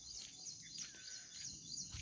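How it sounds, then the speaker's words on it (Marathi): Birds chirping at dawn in a rural Maharashtra village, faint high tweets and short calls repeating over a quiet background. "आणि त्यांचा चिवचिवाट चालू होतो"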